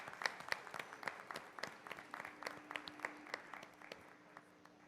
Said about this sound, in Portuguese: uma salva de palmas aqui para a professora Michele